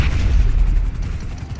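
Grenade explosions in Grand Theft Auto V: a dense, continuous rumble of deep booming blasts that runs loud through the whole stretch, with no talk over it.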